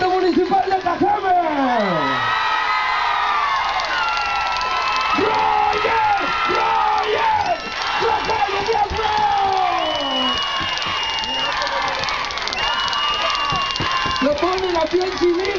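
A large, loud crowd at a political campaign rally in Cajeme, Mexico, cheers and shouts continuously, with whoops and voices chanting together throughout.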